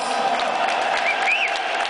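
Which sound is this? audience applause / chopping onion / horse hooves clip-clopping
audience applause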